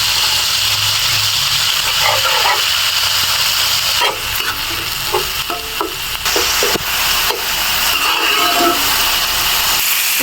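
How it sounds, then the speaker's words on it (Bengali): Onion paste with a split bay leaf and a dried chili fries in hot oil for a Bengali mustard fish curry, giving a loud continuous sizzle and hiss broken by scraping stirs and clinks of a spoon against the pan. "পেঁয়াজটা আমি 2 মিনিটের মতো ভেজে নিয়েছি।"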